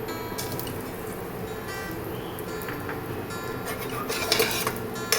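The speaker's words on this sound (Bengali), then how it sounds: "জাস্ট একটু হালকা করে ভেজে নিচ্ছি, হালকা করে একটু নেড়ে নিচ্ছি।" Cinnamon and cloves lightly frying in a little hot oil in a pan, stirred for a chicken curry: a soft continuous fry with scattered light clinks and scrapes of the spoon against the pan, close by and with no talk.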